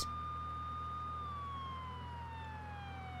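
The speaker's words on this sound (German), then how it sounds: "da muss man mit heulender Sirene fahren" A police car siren in The Sims 3 wails steadily under low background noise, its tone slowly falling in pitch over a few seconds as the vehicle drives.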